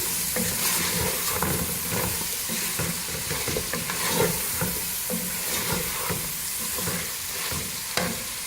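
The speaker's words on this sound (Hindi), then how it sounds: "गोश्त को हमने मीडियम फ्लेम पे अच्छी तरह से भून लिया है।" Mutton for Peshawari namkeen gosht frying and being stirred in a pan over a medium flame, a steady close sizzle broken by repeated scraping stirs throughout, with no talking.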